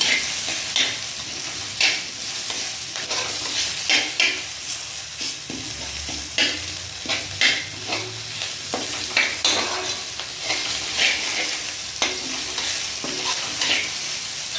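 Tamarind and onions sizzle in a pan for coriander chutney, a continuous frying hiss broken by repeated scraping stirs at a loose, regular rhythm, close and fairly loud.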